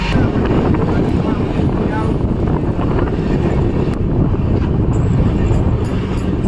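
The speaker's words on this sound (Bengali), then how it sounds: "পুরো মনে হচ্ছে পাহাড়ের মধ্যে ট্রেনটা চলে যাচ্ছে।" The Kolkata Gwalior Superfast Express runs along with a loud, continuous rumble and wind roar heard from on board, steady throughout with no clear voices.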